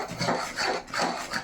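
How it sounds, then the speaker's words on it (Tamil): Thick beetroot halwa is stirred in a pan with sugar, a spoon scraping through the dense mass in four steady, rhythmic strokes, close and clear with no voices. "கிண்டிக்கிட்டே இருக்க வேண்டியதான் டைட்டாக ஆரம்பிக்கும்."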